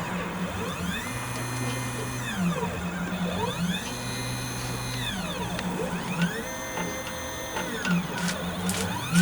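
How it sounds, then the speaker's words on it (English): An Arduino-controlled CNC machine runs with stepper motors whining in rising and falling sweeps as the axes accelerate and slow. A steady mechanical hum sits underneath, fairly close, with no voices. "the CNC machine is doing its stuff"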